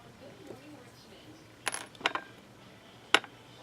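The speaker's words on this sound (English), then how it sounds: "Let me pull out the plain buttons." Plain plastic craft buttons clicking and clattering as they are picked out of a container, a few sharp separate clicks and one small cluster of rattles, close by and fairly quiet.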